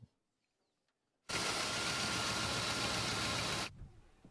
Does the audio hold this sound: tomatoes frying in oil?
no